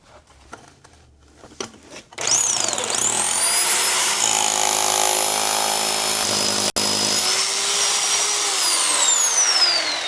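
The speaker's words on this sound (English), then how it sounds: "I've got a good drill for this." After a few clicks and taps, a loud power drill whines continuously, its pitch rising and shifting as it bores an 8.5-inch hole through a stucco wall of an abandoned bank.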